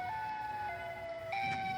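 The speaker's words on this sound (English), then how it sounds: "a bizarre mechanical-sounding siren, which began to wail from out in the marshy swampland" A mechanical siren wails from out over marshy swampland, a sustained tone that steps up and down in pitch and stays steady and prominent.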